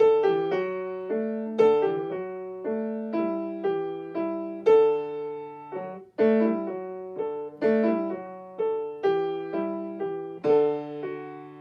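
Slow, steady piano piece with evenly spaced chords and sustained notes, each struck then fading, played alone at moderate volume.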